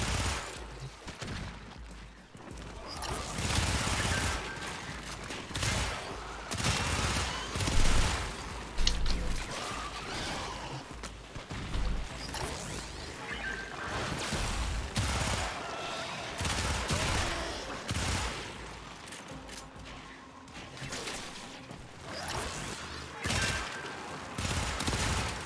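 Rapid, heavy gunfire from a big gun in the video game Frostleaf, with loud, dense bursts crashing almost continuously and close up from start to finish.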